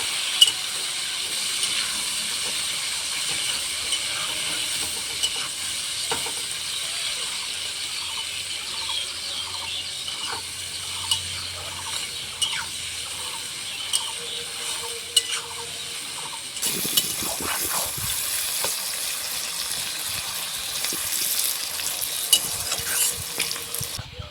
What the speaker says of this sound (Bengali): পেঁয়াজগুলোকে ভালোভাবে ভেজে নেব।